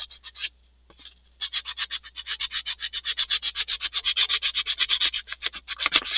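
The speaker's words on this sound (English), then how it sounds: "getting over it with the sander really just takes away the marks from the scrapes" Fine 400 grit sandpaper rubs back and forth over a 3D print in quick, regular strokes, a close raspy scratching that pauses briefly near the start and then continues steadily.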